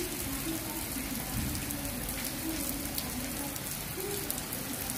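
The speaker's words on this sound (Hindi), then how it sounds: "तो देखिए बारिश," Steady rain pours down outdoors in a continuous, even hiss with scattered drop patter, moderately loud and uninterrupted for the whole stretch, with no voices over it.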